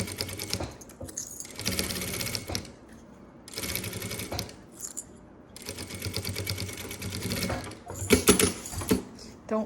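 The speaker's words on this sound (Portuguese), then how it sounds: "vamos passar uma costura de segurança aqui, bem na pontinha, com retrocesso no início e no final" Sewing machine running in bursts while stitching a secure seam with a backstitch at the start and end, fast mechanical chatter separated by short pauses, close and fairly quiet.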